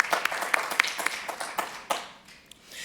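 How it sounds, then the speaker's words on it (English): A small scattered round of applause at a weekly project meeting, a few hands clapping fairly faintly for about three seconds before trailing off. "So let's give a warm round of applause to all of our friends of Mozilla this week."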